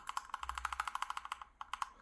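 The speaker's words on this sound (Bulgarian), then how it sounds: "Отпред имаме общо 87 клавиша, като е заложено на свичове KL Brown V2." A Genesis Thor 404 TKL mechanical keyboard with 87 keys and KL Brown V2 switches being typed on: a quick, steady run of soft, close key clicks with a brief pause near the end.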